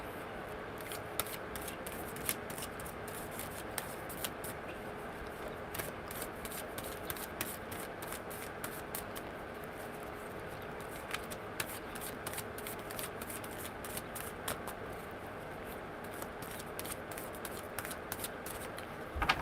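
Tarot cards are shuffled by hand in a steady run of soft riffling ticks and papery rustles, close and quiet, with no voices.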